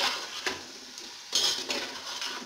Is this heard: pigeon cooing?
no